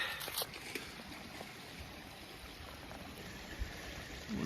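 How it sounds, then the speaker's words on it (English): Creek water flowing in woods during a pre-turkey-season scouting walk, a soft continuous trickle and gurgle heard from nearby, with a few faint knocks and rustles over it. "Across the creek."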